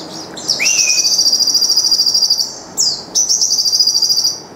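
A small oriental white-eye sings a rapid, high, trilling song close by, paused once briefly, over a soft insect-like background hiss.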